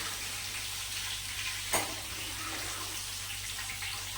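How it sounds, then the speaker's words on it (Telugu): A continuous hiss of sizzling tempering oil with one brief sharp crackle burst as curry leaves drop into the hot pan. "కరివేపాకు వేస్తున్నాను"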